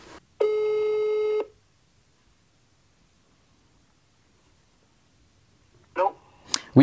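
An outgoing phone call produces a single steady electronic ringback tone that lasts about a second, followed by silence, then a few brief voice sounds and clicks near the end.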